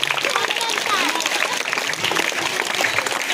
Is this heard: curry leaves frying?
no